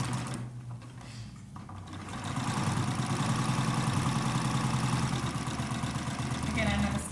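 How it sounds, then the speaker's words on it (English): A sewing machine back stitches elastic onto a cloth face mask with a half-inch seam, running in a steady, close, continuous whir for several seconds after a quieter start, with a voice talking alongside. "place it under my presser foot, and sew with a 1/2 inch seam allowance again"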